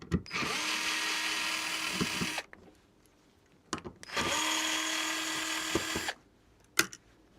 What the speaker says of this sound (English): now I've got to get these screws out